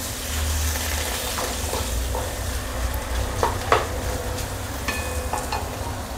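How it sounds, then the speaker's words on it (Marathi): Potato bhaji with fresh coriander gets stirred in a sizzling pan, a spoon scraping in soft strokes over steady frying crackle, fairly close and without voices. "परत एकदा चांगलं मिक्स करून घेते."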